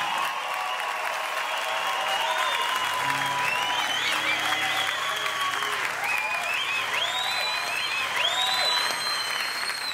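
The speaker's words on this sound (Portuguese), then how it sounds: "Palmas e mais palmas." Sustained applause from a concert audience at an MTV acoustic show, a dense steady wash of clapping lasting throughout with scattered whistles and cheers on top.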